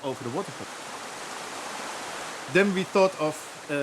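A mountain torrent rushes along the edge of a building plot in Sweden, a steady broadband wash of flowing water, with a person speaking briefly at the start and again near the end.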